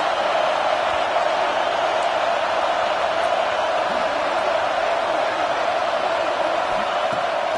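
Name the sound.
football stadium crowd cheering for defense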